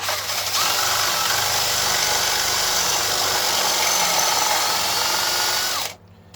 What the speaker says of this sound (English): So I drill a little bit.